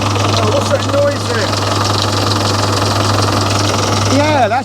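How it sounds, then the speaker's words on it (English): Engine running steadily with a constant low drone and knocking vibration, heard close and loud while people talk over it at intervals. "Sounds like an engine running."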